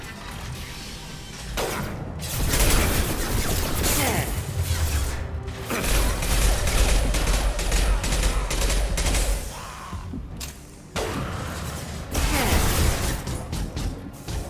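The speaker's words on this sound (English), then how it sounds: "Firing an impact shot" An impact shot fires in the Mass Effect video game amid dense, loud combat, with repeated gunfire bursts, mechanical clanks and crashes layered over a sustained roar, and brief quieter gaps between volleys.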